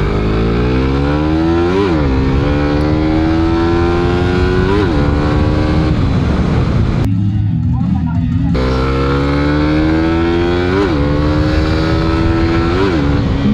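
A Raider Pro motorcycle engine fitted with a slipper clutch revs hard and repeatedly, rising and falling in loud, close, sustained surges with a brief drop in the middle.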